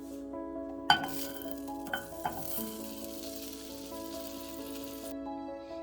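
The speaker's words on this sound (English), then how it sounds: "Next, heat the butter in the pan." Butter heating in a pan, a continuous close sizzle and crackle with a few sharp knocks of a utensil near the start.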